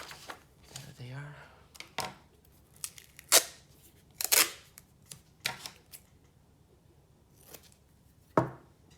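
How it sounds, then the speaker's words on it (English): Scissors snip and cut through duct tape in a series of sharp, close, irregular cuts and tears, with a few quiet pauses between them. "I'll cut up some bit of duct tape."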